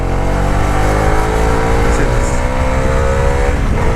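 Bajaj Dominar 350 motorcycle pulling hard in third gear while overtaking, a loud, steady engine note rising in pitch throughout, heard close up with wind noise and no clear talk.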